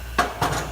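An air bottle is connected to a SAR cart, two quick close metallic clunks a fraction of a second apart.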